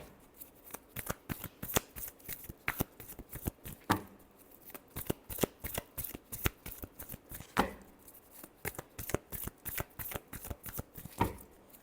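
Tarot cards being shuffled by hand, a steady run of crisp, riffling card snaps and flutters, close and clear, with short pauses between bursts and no talking.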